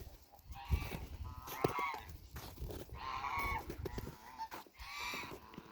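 Farm geese spread out on a sunny slope honk in several loud, nasal bursts that come and go, with quieter clucking and rustling between calls.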